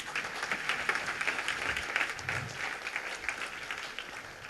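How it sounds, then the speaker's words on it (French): A theatre audience at the end of the 2023 Christmas musical comedy L'Héritier de Noël claps steadily, a dense, even wash of applause that holds for several seconds without a break. "On peut l'applaudir."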